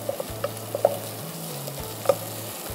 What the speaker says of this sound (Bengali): পেঁয়াজটা একটু ভাজা হয়ে নে